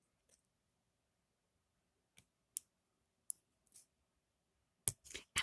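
Scissors snip paper while cutting a blue and clear snowflake ornament, giving a few sparse, close, quiet clicks with long silences between them and a quick cluster of cuts at the end.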